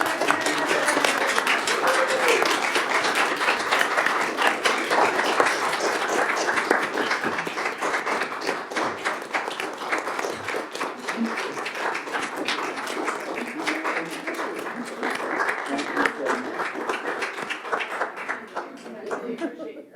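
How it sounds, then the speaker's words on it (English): Sustained audience applause fills a county board of supervisors meeting room after a resolution honoring a long-serving public servant, dense clapping holding steady for about twenty seconds before thinning slightly at the end. "A round of applause."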